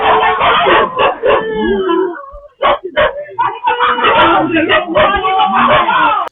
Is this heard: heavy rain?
no